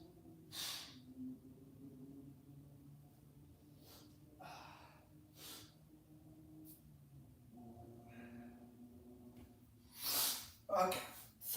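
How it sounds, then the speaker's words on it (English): Someone blows their nose indoors in a few short, breathy snorting bursts, faint and spaced apart, with the last ones strongest. "Hold on, I gotta blow my nose."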